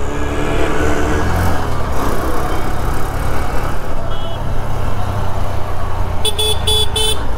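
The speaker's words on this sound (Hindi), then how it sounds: "और हॉर्न देखिए" A 2023 Honda SP 125, a 125cc commuter motorcycle, sounds its horn in a few quick beeps near the end, over a loud, steady rumble of engine and road noise.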